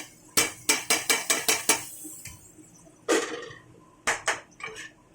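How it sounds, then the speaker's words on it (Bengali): Washed lentils tipped into a cooking pot for veg soybean dal, heard as a quick run of about seven metal clanks and taps against the cookware, then a few scattered louder knocks, close and with no talking. "এখন এখানে দিয়ে দেবো আমি ডালটা ধুয়ে রেখেছিলাম"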